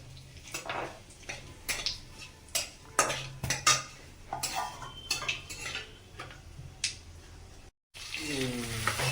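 Nigella seeds and dried chillies hit hot oil in a pan for dheki shaak, giving a steady close sizzle broken by repeated spoon clinks and scrapes against the pan, with a fresh surge of frying near the end.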